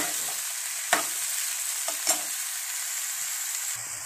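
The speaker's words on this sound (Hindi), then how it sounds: "तरोई को डाल दिया है, अब इनको फ्राई करेंगे।" Ridge gourd pieces fry in a pan, a steady close sizzle broken by a few sharp stirring scrapes.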